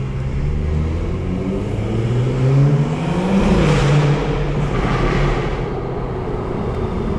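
A tuned BMW 440i engine revs up and accelerates, its rising drone climbing in pitch, loud and close, with no talking.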